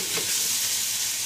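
Garlic shrimp sizzling and being tossed in a hot pan, a dense, loud, steady frying hiss with a faint stir at the start.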